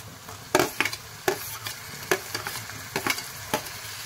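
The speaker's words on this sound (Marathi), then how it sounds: "टोमॅटो सुद्धा आपल्याला मऊ होईपर्यंत परतून घ्यायचा आहे।" Tomatoes and fried onions sauté in a pan, with a soft steady sizzle broken by a dozen or so sharp scraping stirs at an uneven pace.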